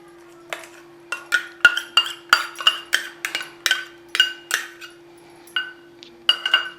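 A spoon clinks against a pot as ground masala is mixed with lemon for lemon gojju, about a dozen bright metallic taps in a loose rhythm, close and alone.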